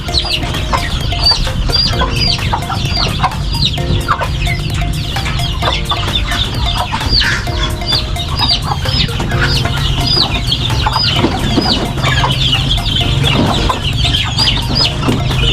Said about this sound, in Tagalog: Ito naman po ay sisiw ng pabo.